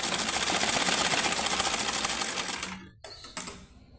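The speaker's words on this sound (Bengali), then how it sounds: "এখান থেকে ধরে আমি এটা গলাটা সেলাই করে দিব।" A sewing machine stitches the neckline of a garment with a fast, steady whirring run, then stops abruptly near the end, followed by two brief restarts close to the microphone.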